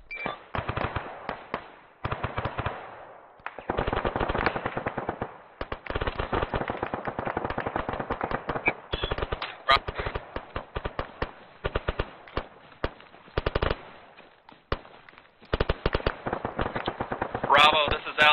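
Gunfire during an infantry training exercise: bursts of machine-gun and rifle fire come in irregular clusters for the whole stretch, crackling and fairly loud over a radio-like band. Soldiers call out to each other between bursts.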